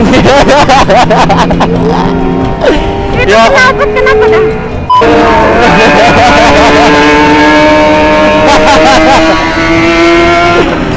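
A Kawasaki ZX25R motorcycle revs loudly and close by, its exhaust roaring up and down in pitch, while people talk in Indonesian over the noise.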